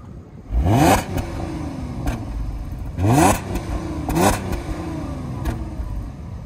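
A supercharged Audi S-Line Quattro engine blipped three times from idle, each rev climbing sharply then falling back to a steady, smooth idle hum, close and fairly loud.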